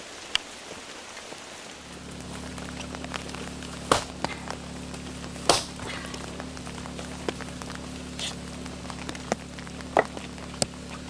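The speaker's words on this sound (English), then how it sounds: "I'm letting the rain beat them clean." Steady rain patters on dishes left outdoors with a low constant hum, punctuated by occasional louder drops and sharp taps.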